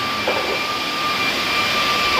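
An Isuzu D-Max 4JK1 diesel engine running with a leaking injector and shaking, giving a steady, close, loud roar with a thin high whine on top.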